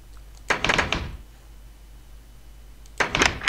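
Two door-closing thunks in Minecraft, each a short clattering burst about two and a half seconds apart, standing out clearly from a low, quiet background.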